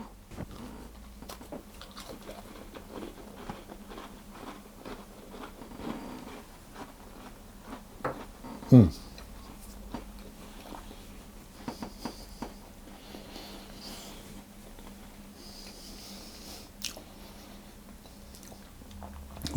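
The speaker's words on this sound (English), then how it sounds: "I'll have a taste of another one now so that you can hear the crunch as well." Close, crisp crunching of a coconut biscuit being bitten and chewed, with small repeated crackles and one louder snap.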